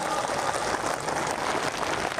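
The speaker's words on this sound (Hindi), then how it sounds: "दोनों हाथ खड़े करके जोरदार तालियों से स्वागत और अभिनंदन" A crowd at an outdoor political rally claps loudly to welcome a politician, a dense continuous patter of applause throughout the short stretch.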